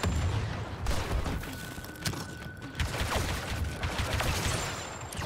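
Continuous battlefield gunfire from Star Wars Battlefront 2 on Endor, with rapid blaster shots and bursts crackling densely throughout, plus occasional louder impacts. No one speaks over the fire.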